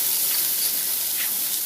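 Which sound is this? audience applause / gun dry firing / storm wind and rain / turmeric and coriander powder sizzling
turmeric and coriander powder sizzling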